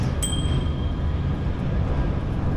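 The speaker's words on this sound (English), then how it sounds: "A train goes by." Train crossing a bridge over the Rhine, heard as a steady low rumble throughout with a brief metallic ding near the start and a faint high squeal.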